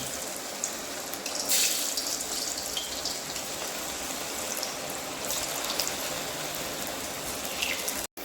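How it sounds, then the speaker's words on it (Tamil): Bitter gourd chips fry in hot, bubbling oil over a high flame, giving a dense, continuous crackling hiss that stays close and even before cutting off abruptly at the end. "எண்ணெய் நல்லா காஞ்சு நல்லா பபிள்ஸ் வருது"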